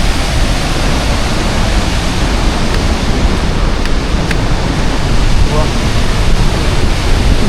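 Mallalli waterfall in Coorg, Kodagu, thunders with a loud, unbroken roar of falling water that fills the whole scene.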